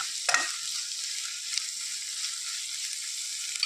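Onion and tomato sauté in a pan over a low flame with an even, continuous hiss and sizzle. One brief clink of a spoon against the pan comes near the start.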